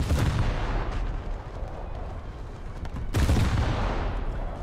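Naval artillery shells fire from a warship in a naval video game. Two heavy booming salvos land about three seconds apart, each followed by a loud rumbling tail, with no talking.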